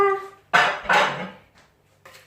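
Metal utensils clank and scrape against a cooking pot as curry paste for a Thai chicken curry with bitter gourd goes in, several distinct knocks and scrapes close by with short gaps between.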